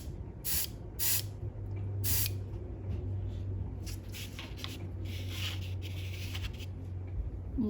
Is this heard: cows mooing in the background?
no